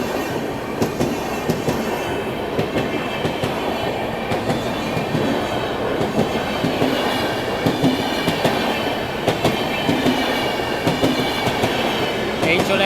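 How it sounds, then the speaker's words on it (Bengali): A Biswa Bharati Intercity Express train passing close by during a crowded festival, loud continuous rumble with rhythmic clickety-clack of wheels over rail joints throughout. "এই চলে গেল ট্রেন।"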